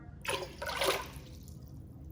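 Water poured into a container to make pickle brine for canning dill pickles, a short splashing gush that starts abruptly, peaks, then trails off quickly.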